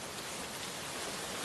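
Heavy rain pours during a stormy Kalbaishakhi night, a dense, steady hiss that holds at an even loudness throughout with no voices.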